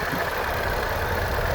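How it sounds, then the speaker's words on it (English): 2019 Jaguar F-TYPE R-Dynamic AWD engine idling with the hood open, a steady, even mechanical hum and low rumble heard up close throughout. "You can hear it idling very smooth here."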